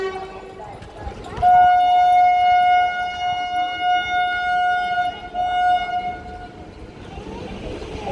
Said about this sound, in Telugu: ఇంక ఈ ట్రైన్ అయితే మూవ్ అయ్యేదానికైతే హార్న్ అయితే ఇస్తుంది.